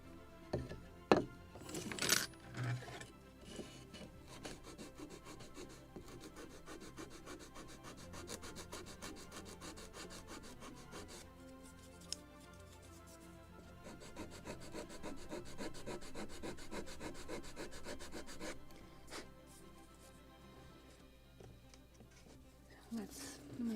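Sanding on the wooden frame of a model gunboat, the Philadelphia of 1776, heard as soft close rubbing strokes in irregular bursts, with a voice speaking in places between them.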